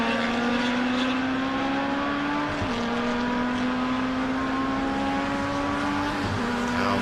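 Race cars on a wet track during a 2018 MCS race, engines droning steadily as they run down the back straight, the pitch sliding through gear changes, loud and sustained with a faint whine of tyres and spray.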